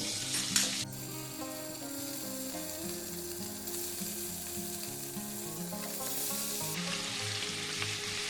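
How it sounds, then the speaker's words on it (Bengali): Loud, steady sizzling of paneer frying in oil and butter, with occasional stirring scrapes and faint music playing underneath. "কড়াইয়ের মধ্যে দিয়ে দিচ্ছি সাদা তেল আর দিয়ে দেবো বাটার একটু দিয়ে আমি এখন পনিরটা ভেজে নেব"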